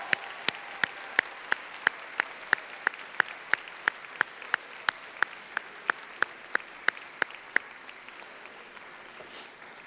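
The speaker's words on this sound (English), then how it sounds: "how about a round of applause for the parents and the faculty" Sharp handclaps at a university commencement ceremony land in a steady, evenly spaced beat, crisp and fairly close, then stop, leaving faint room noise.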